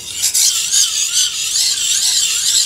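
A steady high-pitched metallic ringing rasp of a knife blade drawn along a sharpening surface, continuous and close, with a faint wavering pitch and no talking.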